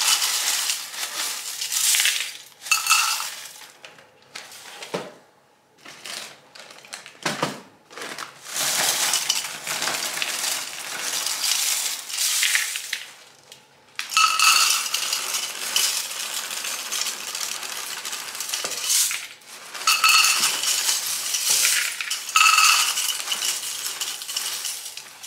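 Total cereal poured into bowls at about three cups each for homemade dog food, a dry rattling, crunchy rush of flakes in several long pours separated by short pauses, close and fairly loud.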